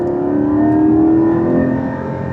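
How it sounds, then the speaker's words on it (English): A Porsche engine with its sport exhaust open drones loudly and steadily, rising slightly in pitch before easing off, heard up close from inside the car without any talking. "we're going to put auto blip on, we're going to stiffen the dampers, put the exhaust on"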